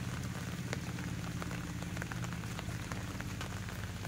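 Monsoon rain falls in the Sundarbans, a constant patter of drops with scattered sharper ticks over a low steady rumble. The sound is moderately loud and even, with no talking.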